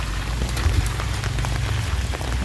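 Rain falls steadily around someone walking outdoors, a dense, close hiss of drops spattering on surfaces with no pauses through the short stretch.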